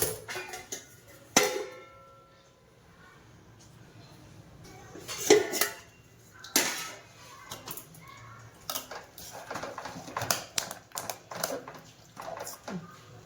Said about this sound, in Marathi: मी आता याच्यावर झाकण ठेवते 2 मिनिटं